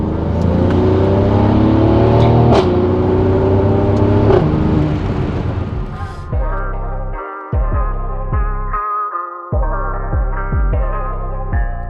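A Mercedes C43 AMG Estate with a V6 engine revs hard, rising then falling, followed by a series of short sharp blips with crackling pauses between them, close and loud with no voices.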